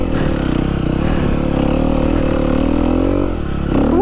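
Motocross motorcycle engine revving hard while riding through sand, a loud close continuous roar that holds steady, dips briefly near the end and then picks up again.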